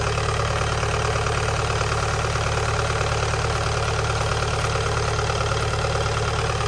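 A Kubota DC70 V2403 diesel engine idling on a test run, a loud, constant, rough clattering rumble with no change in speed and no voices.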